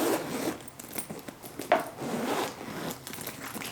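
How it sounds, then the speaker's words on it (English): A bag being zipped up, with several quick rasping zipper pulls and rubbing, handling sounds at close range, no voices. "Let's zip her up."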